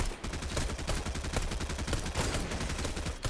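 Rapid, dense gunfire from a video game firefight, a continuous stream of loud shots with no pause across the whole stretch, as sustained fire picks off enemies below in a gorge.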